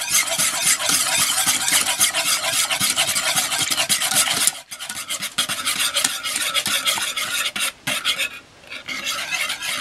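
Cocoa powder mixture being mixed by hand for homemade popsicles, a steady close scraping and rubbing of a utensil against a bowl with brisk repeated strokes, briefly pausing midway.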